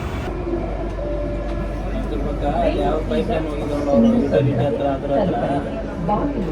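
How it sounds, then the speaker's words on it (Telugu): Inside a Bangalore metro train during a ride, with a steady rumble of the carriage running along the track and chatter from passengers throughout. "మెట్రో ఎక్కి వెళ్తూ ఉన్నాను."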